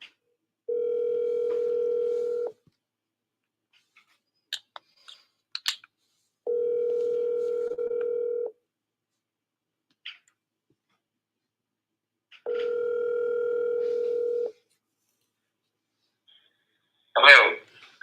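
A telephone tone sounds in three steady, clean bursts of about two seconds each, separated by silence, with a few brief clicks between them and a short burst of noise near the end.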